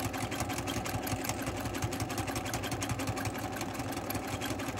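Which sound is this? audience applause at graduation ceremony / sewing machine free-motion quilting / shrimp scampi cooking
sewing machine free-motion quilting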